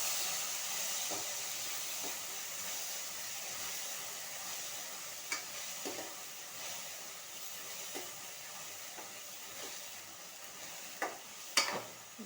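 A fresh green chickpea curry cooks over a low flame, giving a faint, steady sizzling hiss with a few scattered soft clicks and taps from the pan.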